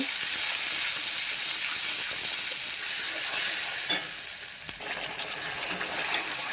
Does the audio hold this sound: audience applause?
no